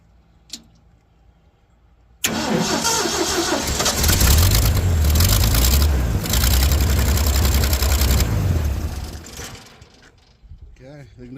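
An Asplundh JEY wood chipper engine cranks, catches and runs loudly for several seconds with a rough, steady mechanical roar, then winds down and cuts off, leaving quiet clicks.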